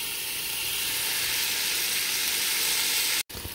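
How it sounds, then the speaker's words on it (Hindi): Chicken frying in butter, garlic, salt and oil in a pan, a loud steady bright sizzle and hiss throughout, with a brief cut near the end before the sizzling resumes. "नमक और बटर और लहसुन में हम चिकन को इतना पकाएंगे कि इसका कलर चेंज हो जाए"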